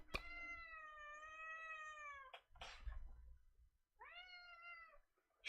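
A cat meows twice, long drawn-out calls with a pause between them, loud and close, with a short thump and a brief rustle in the gap.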